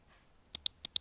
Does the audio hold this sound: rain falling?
no